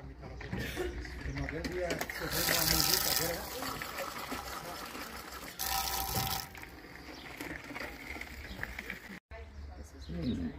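A pilgrims' fountain at Irache on the Camino, pouring water on one side and wine on the other. It runs and splashes steadily up close while people talk over it and birds chirp faintly.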